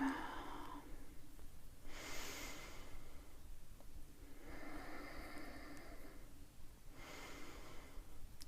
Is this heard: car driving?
no